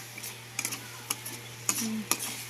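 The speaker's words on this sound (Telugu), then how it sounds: "మసాలాకు పట్టేటట్టుగా బాగా కలిదిప్పేసేసుకున్నా అడుగంటకుండా" Fish curry masala, cooked low on salt, stirred in a pan with a spoon, giving a soft sizzle beneath several sharp scraping clicks spaced irregularly, close and fairly quiet.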